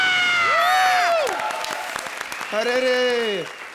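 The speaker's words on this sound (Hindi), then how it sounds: "तालियां!" A studio audience on the Indian TV comedy show Comedy Circus bursts into applause and cheering for a new judge, steady and fairly close, with swooping tonal effects and voices rising over the clapping.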